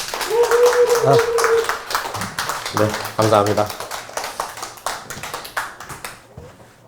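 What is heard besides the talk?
audience applause welcoming the conductor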